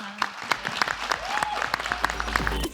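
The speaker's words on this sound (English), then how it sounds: "Can we please give a round of applause to our" Applause breaks out for panelists at the close of a talk in a leadership series, with steady clapping building over nearly three seconds, mixed with some whoops and brief voices from the crowd.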